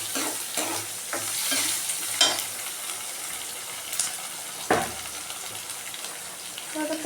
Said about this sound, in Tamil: வெங்காயம் நல்லா பொன்னிறமாக வதக்கணும்.